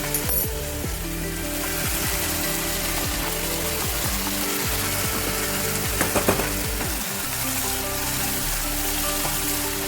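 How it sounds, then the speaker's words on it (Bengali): Fried onion and cashew paste hitting a pan of chicken curry, giving a dense, steady crackling sizzle close by with faint clinks and scraping, no voices. "এর মধ্যে আমি এবার ভাজা যে পেঁয়াজটা বেরেস্তা করে পেস্ট করেছি সেই পেস্টটা দিয়ে দেবো, পেঁয়াজ আর কাজু বাদামের পেস্টটা।"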